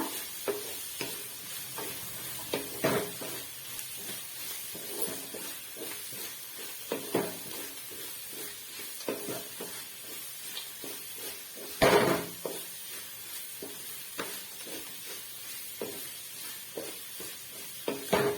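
Vegetables and egg frying in a pan for fried rice, a soft sizzle broken by repeated scraping stirs and a louder scrape near the middle, heard close with no talking.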